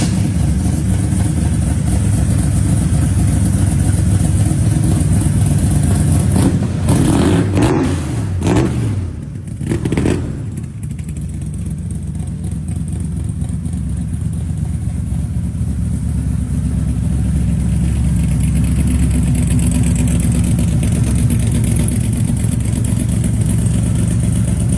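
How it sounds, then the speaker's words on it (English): A 1941 Willys Coupe custom hot rod with a big block engine idles with a deep, loud, lumpy rumble, rises into a couple of sharp revs partway through, then settles back to a steady close idle. "1941 Willys Coupe Custom Big Block Hot Rod."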